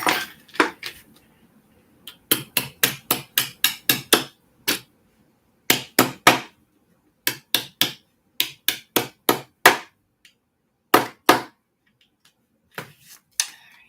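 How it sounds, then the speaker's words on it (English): Sharp, bright taps of a small hammer striking metal prongs on a small journal cover, coming in quick bursts of several blows separated by short pauses, close and clear with no talking. "So I have a little itty bitty hammer."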